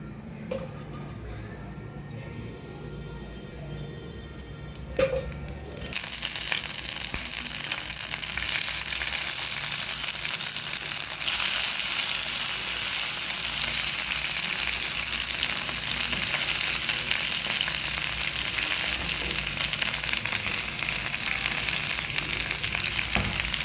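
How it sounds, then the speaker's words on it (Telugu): Sesame seeds and green chilies frying in hot oil, quiet at first with a couple of light clicks, then a loud, dense, steady crackling sizzle from about six seconds onward. "నువ్వులు పచ్చిమిర్చి కూడా వేయించుకుందాం"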